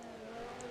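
A V10 Formula 1 car engine in a racing video game, held at a steady high whine at Monaco, moderately loud and continuous with no voices.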